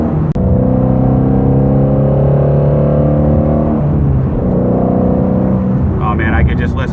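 A Ford Mustang GT350 engine revs hard at close range, a loud sustained howling drone that rises and holds, dips briefly, then climbs again before fading into a higher whine at the end.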